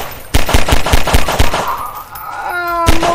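Rapid burst of about eight loud, close 9mm pistol shots in Garry's Mod, followed by a ringing mechanical tail and one more shot at the end.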